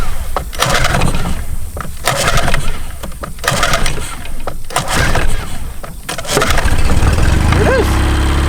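A boat outboard engine, just back from a carburetor clean, cranks and catches, its rough mechanical rumble building through repeated bursts before settling into a loud, steady run, with brief voice sounds near the end.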